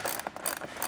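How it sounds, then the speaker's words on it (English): Ratchet and socket snugging nuts onto a plastic door mud flap on a 2024 Toyota Land Cruiser, giving a brief burst of quick, close mechanical clicks with no talking. "We'll go ahead now and tighten down the 5 nuts and those 2 bolts."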